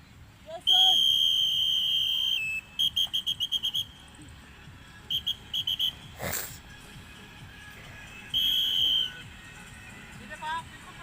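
Coach's whistle during an exercise drill: a long shrill blast, a quick burst of short rhythmic peeps, more clipped toots and a final long blast, loud and close, with people talking between them.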